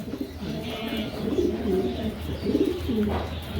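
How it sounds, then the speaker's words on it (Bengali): A pair of Hungarian Budapest pigeons coo in repeated low, rolling phrases, close and moderately loud over a faint background hum. "এখন দেখতে পাচ্ছেন এক জোড়া বুদাপেস্ট, হ্যাঙ্গারান বুদাপেস্ট।"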